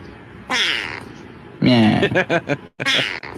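A person's voice imitates a cat, giving a drawn-out meow followed by a quick run of choppy, wavering meows, loud and close.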